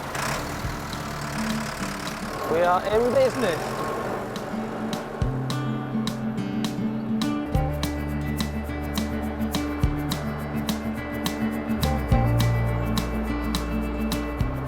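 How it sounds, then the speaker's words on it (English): A tractor engine runs steadily as it is driven, with a low rumble and repeated low-frequency pulses and revving changes throughout; a person speaks briefly over it near the start. "this is my first time driving a tractor"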